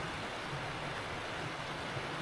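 Steady broadband rush of a waterfall on a wet, wild stretch of the Cape Wrath Trail in the Scottish Highlands, heard from a distance with wind mixed in, continuous and unbroken.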